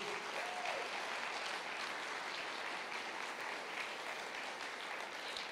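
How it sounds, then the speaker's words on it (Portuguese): A congregation claps in a church service for Jesus, a broad, even wash of applause held at a steady level the whole time, slightly distant and without talk over it. "Dá uma salva de palmas para Jesus."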